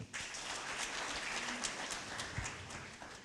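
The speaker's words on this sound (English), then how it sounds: "Let's give them a hand clap." Audience clapping at a university orientation breakfast, a steady patter of many hands at moderate distance, with a few louder individual claps.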